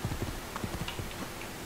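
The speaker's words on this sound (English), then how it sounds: "Go, horsey!" Horse hooves clip-clop steadily in Assassin's Creed 2, a brisk, even rhythm of close, moderately loud hoofbeats on hard ground that runs for under two seconds with no talk.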